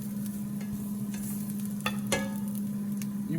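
Jack Daniel's chicken wings fry in a hot pan with a soft, steady sizzle over a low hum, broken by a few small pops and utensil taps, close by.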